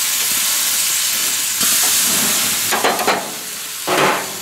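A red pepper chars directly over heat, giving a steady loud sizzling hiss with brief crackling bursts and stirring-like scrapes partway through. No talking.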